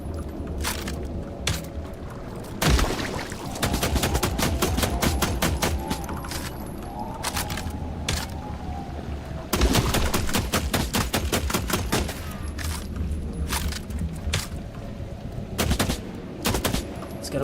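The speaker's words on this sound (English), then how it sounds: "Gotta make sure to shoot the tentacles so I can get rid of them." Rapid gunfire in The Last Caretaker as tentacle growths are shot, repeated loud bursts of automatic shots in quick rhythmic runs with brief pauses between volleys, close and dominant throughout.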